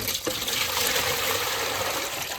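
Water poured in a steady, loud, continuous gush close by, filling a container without pause and with no talking.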